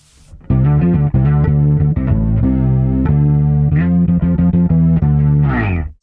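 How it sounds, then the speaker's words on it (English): Distorted electric guitar run through a chorus placed in the amp's effects loop, with an octave effect added, playing loud sustained chords and picked riffs with a shimmering, doubled tone, close and alone without voices. "And now my distortion has the chorus that I have placed in the effects loop. I'm going to engage the octave as well."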